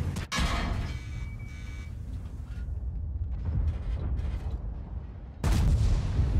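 Tank cannon shots boom in a video game, two sharp loud blasts at the start and end with a lingering rumbling tail between them.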